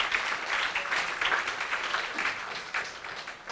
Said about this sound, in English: let's give a round of applause to each other for energy boost for success